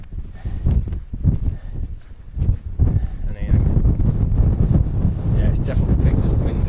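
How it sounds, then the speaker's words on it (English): Gusty wind buffets the microphone outdoors at a tarn wild camp, a loud continuous rumble that strengthens partway through, with people talking faintly underneath. "Definitely picked up windy."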